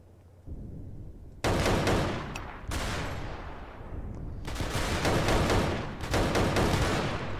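Sustained bursts of automatic gunfire in a Roblox shooter, loud and close, come in several long volleys separated by brief gaps with no talk.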